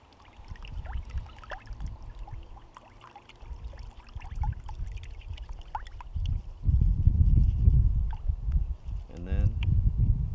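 Gold pan being swirled under water in a stream while panning material, with sloshing, splashing water and rattling gravel building louder toward the end, and a person talking over it.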